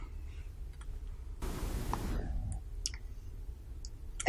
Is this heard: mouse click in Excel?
yes